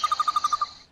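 A quick series of about eight bright, evenly spaced electronic chirps, like a cartoonish bird call, ending abruptly and leaving a brief fading tail.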